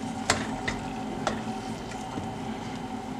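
Tomatoes sizzle and crackle in a small frying pan for a salsa taquera, a steady close frying hiss broken by a few sharp pops and stirring clatters.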